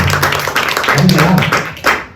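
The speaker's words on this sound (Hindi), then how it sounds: "तालियों की गड़गड़ाहट ना हो तो मजा नहीं आता है।" Audience applause at a Hindi stage play performance, a short burst of many hands clapping, close and fairly loud, with a voice under it.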